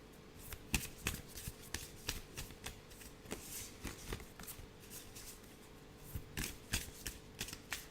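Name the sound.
shuffling papery oracle cards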